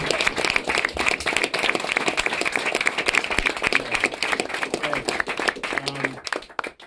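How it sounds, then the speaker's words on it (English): Audience applause at a live hip-hop show, a dense, sustained wash of clapping and a few whistles lasting several seconds before tapering off. "Give a round of applause for Rick, man"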